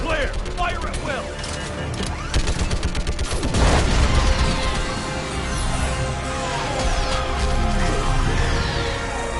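Sustained gunfire in Mass Effect 3 during a fight with a live Reaper, rapid bursts and booming blasts stacking into a loud, dense barrage, with shouted voices in the mix.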